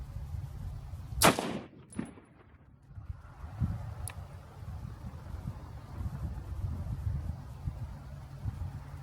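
A single sharp crack from a Browning BAR Safari Mark II rifle in 25-06, firing 100-grain Sierra or Nosler load-development rounds, rings out early and fades into quiet outdoor background noise.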